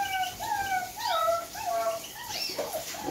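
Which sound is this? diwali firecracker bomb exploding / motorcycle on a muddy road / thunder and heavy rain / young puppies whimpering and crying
young puppies whimpering and crying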